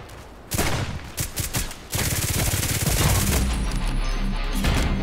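Automatic fire from an HK417 rifle in a shooting video game: a short burst, a pause, then a long sustained stream of rapid shots, loud and close, with no talking.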